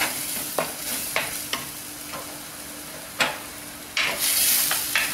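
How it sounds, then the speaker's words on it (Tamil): Ground tomato sautéing in a little oil for a fish curry, stirred now and then: a steady soft sizzle with repeated scraping strokes of a spoon against the pan, close and fairly quiet, no voices. "இந்த தக்காளியோட கலர் மாறுற வரைக்கும் நல்லா வதக்குங்க"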